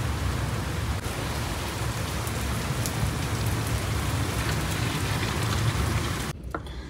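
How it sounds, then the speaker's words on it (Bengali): Heavy rain pours down in a steady, loud, dense hiss with no voices, cutting off abruptly near the end. "এখন খুব জোরে বৃষ্টি শুরু হয়ে গেছে।"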